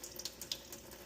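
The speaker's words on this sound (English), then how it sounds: "Just a trickle, and the water is trickling." Kitchen tap running at a thin trickle into a sink, a soft steady hiss of water with faint splashy flickers, heard close and alone at low level.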